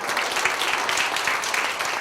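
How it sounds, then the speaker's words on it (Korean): An audience claps together in a dense, steady burst that stays even for the full two seconds, with no voices above it. "하나님께 영광의 박수 한번 올려드리겠습니다"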